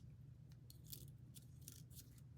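Scissors snip out a circular paper card shape for a flower stamp card kit, giving a few quiet, crisp cuts over a low steady hum, with no talking.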